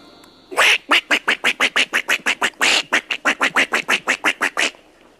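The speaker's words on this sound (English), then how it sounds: "it's a little duck" A duck quacks loudly and close in a fast, even series of about twenty-five sharp quacks, with no other sound.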